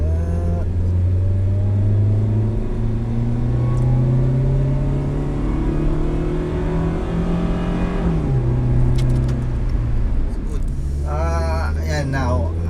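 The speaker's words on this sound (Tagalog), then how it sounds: "Driving the Rush." A 2020 Toyota Rush on the road, its engine drone steady and loud throughout with gradually rising pitch as it accelerates, under continuous talk from the driver.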